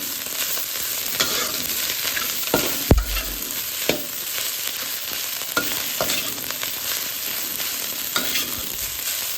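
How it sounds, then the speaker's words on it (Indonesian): Rice and half-cooked vegetables sizzle in a pan for fried rice, a steady crackling fry punctuated by repeated spatula scrapes and taps against the pan, close and alone without speech. "Waktunya kita masukkan nasinya. Ini dia. Dan kita aduk supaya merata."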